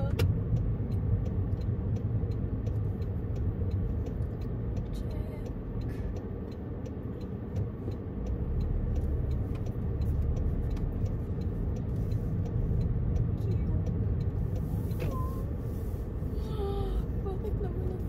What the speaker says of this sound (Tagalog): Bakit naman ang daming sasakyan?